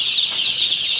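A dense flock of young broiler chicks in a coop keeps up a steady, high chorus of overlapping peeps and soft clucks, close by and unbroken throughout.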